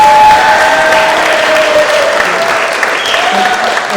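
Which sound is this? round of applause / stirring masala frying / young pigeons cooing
round of applause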